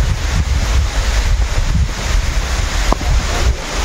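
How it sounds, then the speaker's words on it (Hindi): Cold wind blowing outdoors near Elephant Falls in Meghalaya, a steady low rumbling buffet against the microphone with gusty swells throughout and no talking. "ऊपर से इतनी ठंड हवा चल रही है यहाँ पर"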